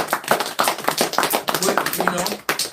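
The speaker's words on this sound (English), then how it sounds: "Come, hand clap." Hand clapping in a rhythmic group setting, sharp repeated claps close by and loud, mixed with voices talking and calling out over them.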